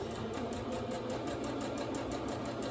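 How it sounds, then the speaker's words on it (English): A sewing machine runs steadily at close range, back stitching back and forth over elastic on a fabric face mask, with an even, continuous motor hum and a rapid needle rhythm and no talking. "Over my elastic, back stitching back and forth."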